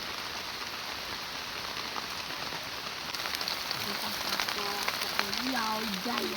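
Steady dense hiss of heavy rain drumming on a newly built thatched field hut roof, continuous throughout, with faint tonal sounds creeping in toward the end.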